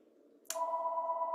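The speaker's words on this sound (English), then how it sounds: "Bear with me while this call goes to voicemail. I can't control the phone in the next room." A telephone sounds from the next room, with a sudden tonal ring starting partway through and holding steady and fairly faint over a low background hum.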